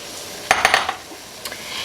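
White wine poured into a hot pot of onions for French onion soup, heard as a burst of metallic clinks and scraping against the pot over a soft background sizzle.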